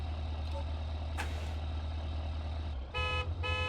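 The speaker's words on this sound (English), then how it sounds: "Okay, so the horn is working." Car horn in BeamNG.drive sounding in two short, bright honks near the end, over a steady low engine idle and background rumble.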